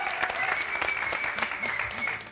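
A television studio audience applauds panelist Diego Brancatelli, dense continuous clapping close and even throughout, with a voice talking over it.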